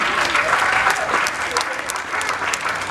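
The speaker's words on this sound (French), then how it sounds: "on acclame pour madame Evodi" A crowd at a nursery school friendship day applauds for Madame Evodi, dense, lively clapping sustained at full strength for the whole stretch, close and loud, with voices mixed in.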